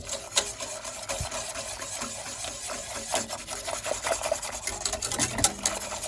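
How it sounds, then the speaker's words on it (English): A whisk works flour into chicken-fat gravy in a pan, giving continuous close scraping and swishing strokes with small clinks against the metal, steady and busy throughout with no talking. "I'm gonna keep whisking this till the whole flour, every bit of it, is dissolved, and then let it simmer till it thickens."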